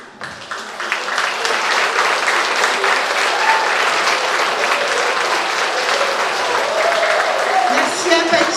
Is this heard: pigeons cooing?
no